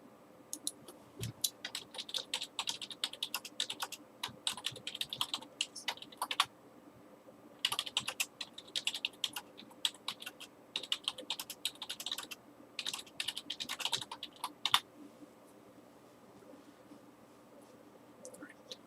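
Rapid typing on a computer keyboard, close clattering keystrokes in several runs with short pauses, fairly quiet with no voice over it.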